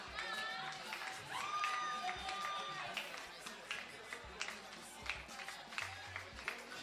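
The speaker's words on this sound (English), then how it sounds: "Clap for her." An audience at a presidential inauguration ceremony applauds a student award winner, giving a brief burst of clapping and crowd noise that trails off under a speaker's amplified voice.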